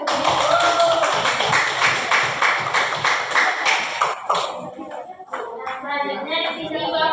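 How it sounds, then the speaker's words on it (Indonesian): A classroom audience claps for a group of students, a dense, steady patter of many hands that thins out after a few seconds and gives way to quieter room noise. "Beri aplaus untuk kelompok 3."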